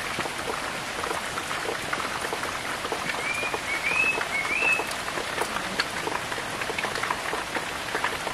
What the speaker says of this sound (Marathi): तर आता बाहेर पाऊस लागतोय आणि संध्याकाळ झालेली आहे।